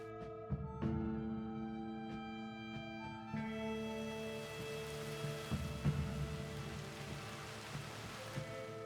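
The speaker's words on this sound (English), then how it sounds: "It's raining." Steady rain falling in the Red Dead Redemption 2 game world near Shady Belle, a continuous hiss that thickens partway through, layered over sustained musical tones and occasional soft thumps.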